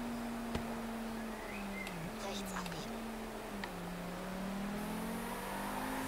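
A car engine in the racing game Forza Horizon 3 drones steadily at high revs, its pitch dipping and rising slightly as it drives, with a constant hiss of road noise around it.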